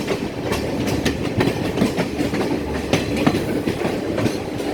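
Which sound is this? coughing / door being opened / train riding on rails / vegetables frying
train riding on rails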